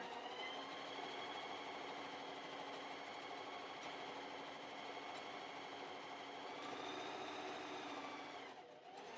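A sewing machine runs a continuous straight stitch on a bowl koozie, its steady mechanical whir humming evenly for about nine seconds before slowing to a stop at the corner.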